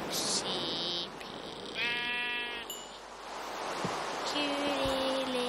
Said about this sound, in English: I'll still kill this sheep because, you know, it's a cute little sheepy.